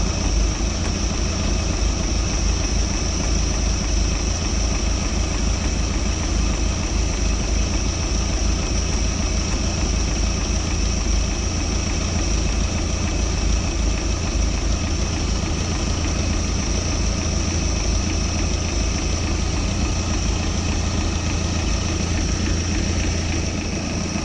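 A Mercruiser boat engine idles steadily at a warm-up, a loud continuous low drone with a constant hum and no break or change in pace, with no voices over it.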